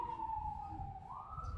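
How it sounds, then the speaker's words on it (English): An emergency vehicle siren wails outside, a steady tone that dips and then rises again, moderately loud over a low rumble of background noise at a convention venue. "Sirens. I don't know if you guys can hear that."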